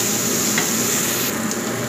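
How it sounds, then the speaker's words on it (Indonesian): Garlic, dried shrimp and mushrooms stir-fried together in a pan, producing a steady, close, hissing sizzle throughout that briefly lightens near the end. "Tumis sampai harum."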